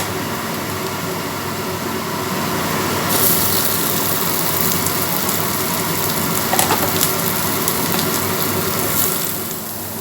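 Boiled potatoes and onions frying in a pan for a Tamil potato podimas, a steady close sizzle that grows louder partway through, with a few faint clinks from stirring.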